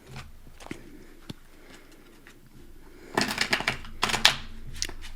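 Tarot cards being shuffled by hand, a burst of crisp riffling and flicking near the microphone after a quiet stretch with faint handling sounds.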